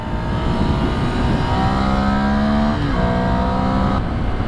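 A Ducati Scrambler Sixty2 400cc L-twin motorcycle engine drones loudly and close on a test ride. Its pitch climbs steadily, dips briefly at a gear change, then rises again under constant wind rush.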